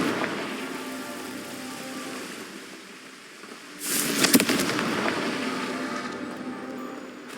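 A Confringo fire spell blast in the Hogwarts Legacy video game: a hissing, rain-like crackle over a low bed, then a sudden brighter burst with sharp crackling pops that settles into a sizzling tail.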